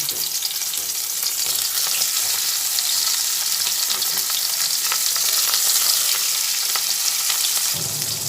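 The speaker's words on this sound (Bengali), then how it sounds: "তেলটা গরম হয়ে গেছে সেই জন্য মাছগুলো এক করে দিয়ে দিচ্ছি" Fish pieces fry in hot oil in a home kitchen, giving a loud, close, continuous crackling sizzle with rapid popping spatters and no talking.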